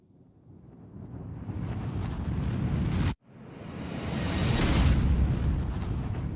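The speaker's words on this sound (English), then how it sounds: "I have risers and explosion sound effects." A whooshing riser swells upward, cuts abruptly to silence, then a deep booming explosion erupts and roars on, loud and broad.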